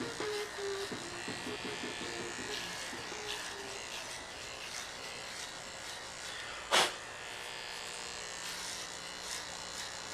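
Barber hair clippers with a 1/4 guard buzz steadily while cutting a head of hair in sections for a high bald taper, a close, continuous electric hum with soft snips and a sharp click partway through.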